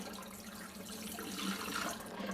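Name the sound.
water draining from a sprouting jar through a straining lid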